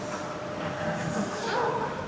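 Monorail train to Resorts World on Singapore's Sentosa line running at about 40 km/h, a steady close rumble and hum of the moving carriage with speech faintly present.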